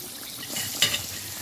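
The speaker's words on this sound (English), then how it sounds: "we're going to go ahead and just fry this fish so it can get a nice color on it" Fish sizzles steadily in hot oil for a home-style curry fish, a close, continuous hiss with a brief clatter of a utensil partway through.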